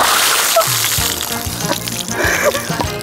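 Ice water is poured from a bucket for the Ice Bucket Challenge, a brief, loud splashing gush with some clattering.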